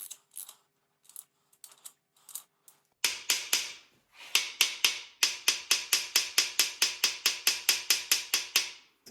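A ratchet tightens the thrust bearing cap on a Ford Y-Block engine during a rebuild, making a steady run of sharp, close clicks in quick repeated bursts after a few scattered early clicks.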